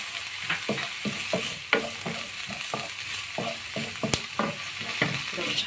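Steady sizzling of onions frying in oil, with repeated scraping and stirring strokes against the pan, close and fairly loud, no voices.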